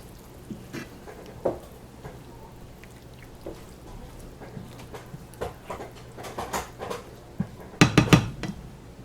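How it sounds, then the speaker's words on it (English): Spoon stirring water, cider vinegar and other verde hot sauce ingredients in a pot, with scattered light clinks and scrapes that grow into a few sharper metallic knocks near the end. "Give that a quick stir."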